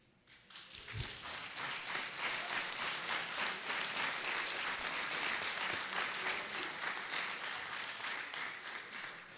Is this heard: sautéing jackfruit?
no